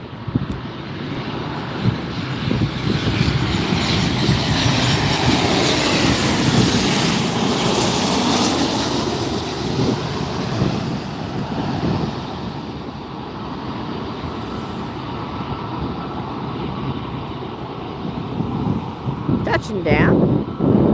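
Southwest Boeing 737 touches down at LAX, a loud broadband jet roar swelling and holding, then easing as wind buffets the microphone and someone talks over it.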